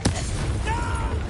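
Fire spell cast in Hogwarts Legacy, a sharp whooshing burst at the start followed by a crackling, rumbling flare under game music and effects.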